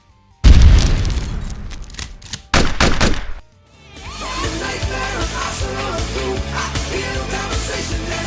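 A massive building explosion from the action film Demolition Man, a real city demolition detonation: a heavy boom erupts, a second blast follows, then rumbling debris gives way to a loud orchestral action score.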